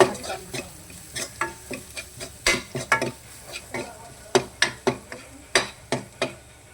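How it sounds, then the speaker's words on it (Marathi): Garam masala and cumin powder are stirred into a frying mixture in a pan, with repeated sharp scraping and clinking strokes of the spoon over a low sizzle, close and rhythmic. "आता सगळं टाकल्यानंतर मिक्स करायचे चांगले."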